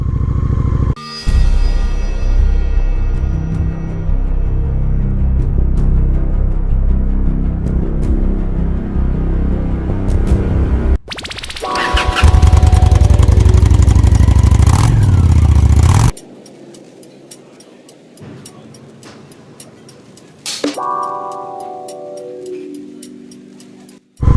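A Honda Shadow 750 ACE motorcycle rumbles loud and close, with a steady idle, a roaring rev, then a quieter stretch as it pulls away and shifts up through rising engine tones.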